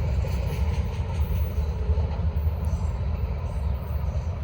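Norfolk Southern or CSX freight train rolling by close and loud, a steady rumble with clattering wagons and faint wheel squeal, continuous throughout with no talk.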